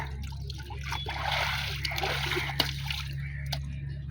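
River water splashes and trickles steadily at a bathing ghat in Bagbazar, Kolkata, with a constant low hum and faint distant voices underneath.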